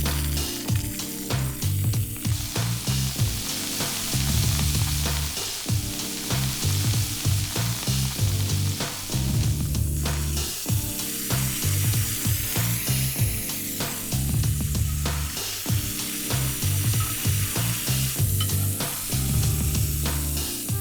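Halloumi cheese sears in a cast iron pan with a steady crackling sizzle, broken by repeated clanks and scrapes of a utensil against the pan, close and fairly loud, no talking.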